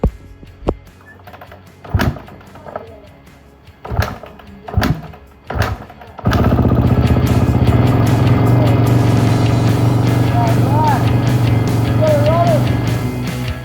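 A twenty-year-old Kawasaki KX250F dirt bike gives several sharp clunks and thuds during starting attempts, then catches and runs continuously, a loud, close, steady engine drone that fills the rest of the clip.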